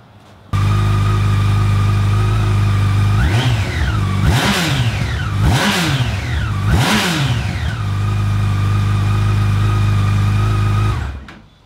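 Yamaha FJR1300 motorcycle on its stock exhaust idles steadily, then revs sharply three times, each rise and fall clear and close, before settling back to idle and cutting off.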